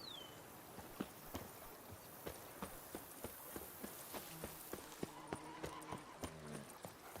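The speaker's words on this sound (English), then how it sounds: "Good, Roach is already here" Horse hooves clip-clopping in Witcher 3, a steady walking rhythm of fairly quiet hoofbeats arriving, with a voice speaking briefly over the end.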